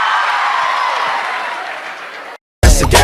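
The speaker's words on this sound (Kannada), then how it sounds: "ಜೋರಾದ ಸ್ವಾಗತದೊಂದಿಗೆ ಚಪ್ಪಾಳೆಯೊಂದಿಗೆ ಸ್ವಾಗತಿಸೋಣ" Audience applause at a college cultural festival greets a dance team taking the stage, dense sustained clapping from a crowd, then a sudden cut to silence before loud music bursts in.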